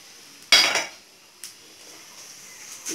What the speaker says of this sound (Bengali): এবার আমি এটা নামিয়ে দিয়ে আমার প্যানটা চুলে দিই